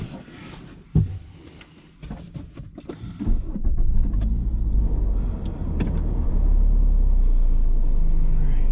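An all-wheel-drive Fiat 500 sets off on a drive, starting with cabin clunks and shuffling before a steady, close engine and road rumble builds and holds.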